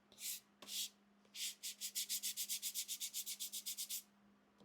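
A hand scuffs a piece of scrap wood with 220 grit sandpaper: a few slow strokes, then a quick even run of about fifteen rhythmic rasps, close and fairly quiet.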